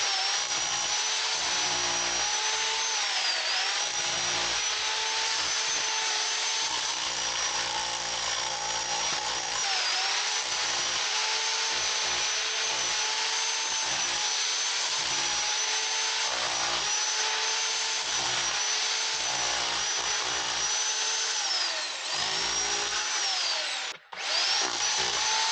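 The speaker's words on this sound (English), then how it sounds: "I switch over to the pick hammer." Pick hammer chipping steadily through a dense rock and dirt wall for a new entrance to an off-grid house, a loud continuous rattling hammer drone with brief pauses between bursts and one sharp dropout near the end.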